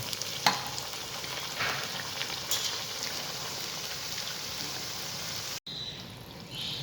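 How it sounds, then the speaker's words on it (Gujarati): Methi pharsi puris fry in hot oil with a steady bubbling sizzle, a few sharp crackles and stirring clicks, and a brief break near the end. "હવે તેલમાં આપણે પૂરી નાખીશું"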